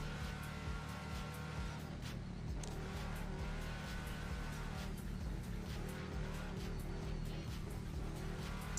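A Can-Am X3 side-by-side racing at a desert race, with a steady, continuous engine drone and a deep low rumble, heard from inside or close by and not fading throughout.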